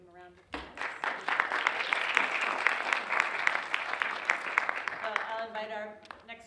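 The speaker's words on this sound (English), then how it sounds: "give them a round of applause" Audience at an open-classroom talk on equity giving a round of applause, rising quickly after a brief word and holding as a full, steady wash of clapping before tapering off at the end.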